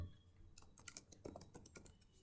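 Quiet clicking of keys on a computer keyboard, a quick irregular burst of several keystrokes close by with no talking.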